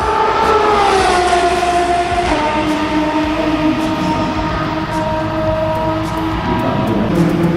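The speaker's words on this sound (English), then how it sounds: "And here come the Astons." Aston Martin race cars pass at Le Mans in 2025, their loud, high engine whine sustained and sliding down in pitch as each car goes by, with overlapping tones from several cars.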